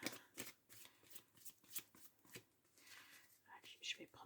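A deck of oracle cards is shuffled by hand in soft, irregular bursts of papery riffling, quiet and close, with a faint whisper-like voice now and then.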